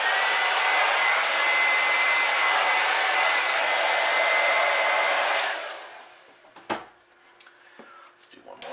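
A heat gun blows a steady, loud airy roar while heat-setting fresh paint on a crankbait, running alone for about five seconds before cutting off, followed by quiet handling clicks and a faint voice.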